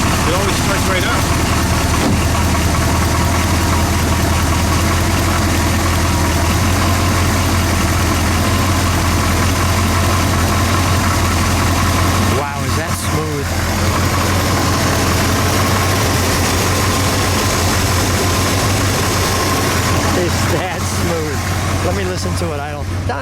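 A 1977 Chrysler Newport St. Regis engine idles loudly and steadily close by, with a low, constant hum. People talk over it throughout, and the engine note dips briefly midway.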